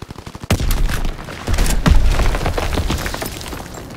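A grenade blast in the Call of Duty WW2 multiplayer game, a sudden loud boom followed by a sustained rattle of gunfire and further bursts that fade toward the end.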